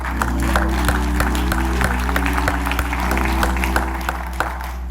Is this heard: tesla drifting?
no